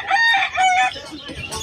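A rooster crows loudly and close at a pet market in Malabon, two drawn-out strained calls in quick succession over a busy, noisy background.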